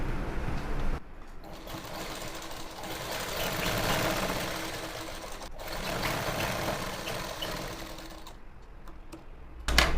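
A sewing machine runs in a long steady burst of rapid mechanical stitching on a gathered pant, pausing briefly midway before a final short stop.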